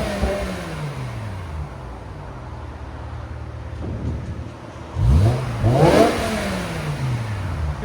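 A 2008 BMW M5 with its 5.0L V10 on the stock exhaust, idling, then revved in a few rising and falling sweeps with two sharp blips near the end before settling back to a smooth idle, loud and close.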